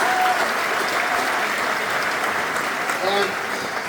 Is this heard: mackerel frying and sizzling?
no